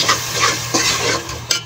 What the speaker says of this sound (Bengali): এখন মশলা কষানোর জন্য আমি ওখানে পরিমাণ মতন পানি দিয়ে দিলাম।